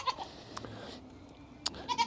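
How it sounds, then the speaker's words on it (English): Two farm goats bleat in short, separate calls over a faint, quiet background during a snowfall, with a couple of louder cries near the end. "These two are my chattiest goats."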